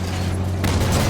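Gunfire and explosions in the video game Halo 5: Guardians, a dense loud wash of battle noise with a low rumble, swelling sharply partway through, no voices.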